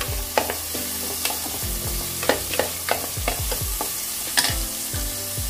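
A cup of finely chopped small onions sautés in a pan, crackling loudly and close, with repeated rhythmic scrapes of the spatula against the pan.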